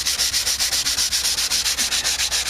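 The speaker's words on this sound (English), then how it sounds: "This is a finer sandpaper. This is 150 grit here." Sheet of 150 grit sandpaper rubbed back and forth over wood in quick, even strokes, close and steady, with no voices.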